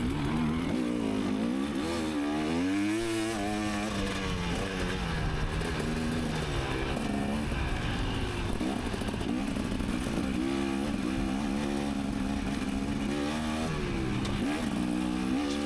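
A group of ATVs rides a new single-track trail at Mountain Ridge ATV Park, several engines droning and revving continuously together at close range with rising and falling pitch and rattling clatter over rocky ground.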